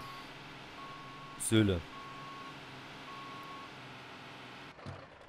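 Reversing beeps from a fire truck in a firefighting simulation video game as it parks, a short loud burst of electronic beeping over a steady engine drone, with a brief spoken word nearby.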